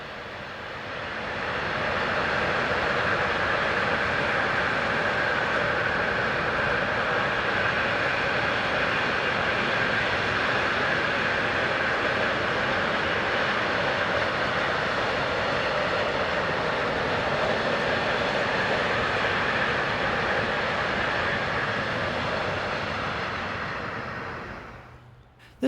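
An ÖBB class 1016 electric locomotive hauls a train along the Northeim–Hannover main line in Germany, a broad, steady rushing roar that builds and holds for over twenty seconds before fading out.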